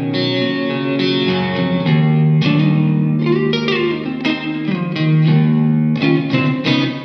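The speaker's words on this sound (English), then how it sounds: "Great sounding reverb, isn't it?" An electric guitar played through a Hammertone Fender Reverb pedal: loud, close picked notes and chords washed in lush spring, plate or room reverb tails, continuous and with no voices.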